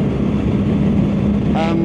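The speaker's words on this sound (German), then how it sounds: "Entschuldigung für die Windgeräusche, aber heute ist extrem windig." Steady roaring wind noise buffets the rider on a BMW R 1300 GS motorcycle on a very windy day, loud and constant with engine rumble underneath. A voice is briefly heard at the end.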